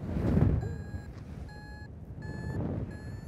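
Four short, evenly spaced electronic beeps from a paragliding variometer signalling a climb over Tahiti, high and clear over a low rush of wind.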